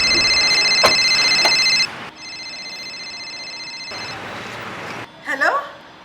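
Electronic ringing tones on a phone call sound in steady bursts, with a short gap between them, followed by a brief voice near the end in a Gujarati comedy sketch.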